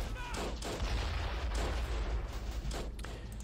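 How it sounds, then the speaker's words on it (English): Artillery shelling in the World War I strategy game Battle of Empires: 1914-1918, a run of heavy booms and rumbling impacts over a dense battlefield din, loud and continuous across the whole stretch, with no talk. "Artillery already coming in."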